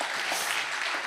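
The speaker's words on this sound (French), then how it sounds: "ça s'applaudit, je crois." Audience applause fills a university award ceremony, a dense, steady wash of clapping that runs loud and unbroken throughout.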